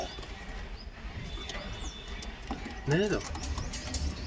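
Pigeons in a homemade pigeon house coo in a short, clear burst as they squabble over nesting sticks, amid faint background noise, with someone talking nearby.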